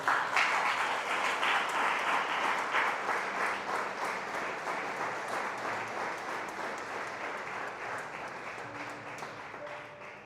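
A church congregation applauds during a sermon, a dense sustained clapping that stays loud and gradually fades over about ten seconds, with no speech over it.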